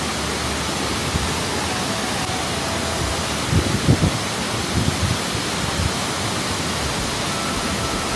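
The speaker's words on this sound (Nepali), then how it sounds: "अहिले चाहिँ म यस्तो बवाल झर्नाको अगाडि छु" A waterfall on a mountain stream at Dhorpatan, Nepal, heard as a loud, constant broadband roar of falling water, close and unbroken, with a few faint low knocks midway and no voices.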